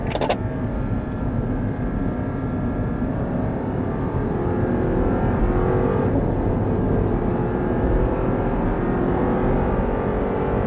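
An Audi R8 race car accelerates on Sonoma Raceway, a loud sustained engine drone with rising harmonic whine as it pulls through the gears, close and continuous with no talk.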